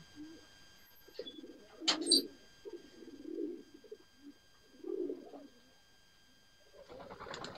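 Pigeons coo and call in short, soft bursts after a female is let out among them, with a brief sharper flutter or chirp in the middle and a quiet background.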